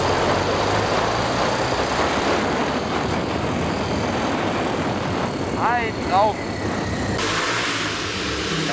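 A cafe racer motorcycle engine accelerates on an outdoor ride, a loud, steady roar that stays up front throughout while someone speaks briefly over it.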